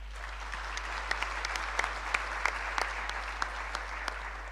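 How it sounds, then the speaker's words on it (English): A conference audience gives a round of applause for a discussion panel, heard as soft, somewhat distant, steady clapping with sharper individual claps scattered through it. "could have a round of applause for them."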